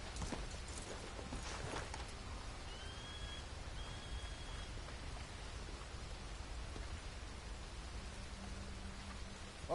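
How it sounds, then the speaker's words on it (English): Steady rain falling in the Red Dead Redemption 2 game world, a continuous even hiss of pattering drops with faint clip-clop of hooves beneath it, no talk. "Oh, great, here comes the rain."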